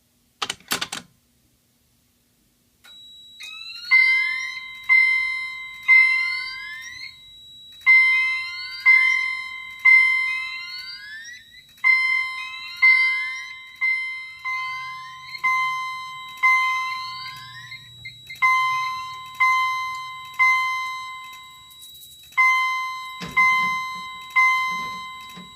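A Simplex TrueAlert SmartSync fire alarm chime/strobe sounds repeated bright chime patterns in regular bursts during a system test, loud and close, with a short click at the start and end.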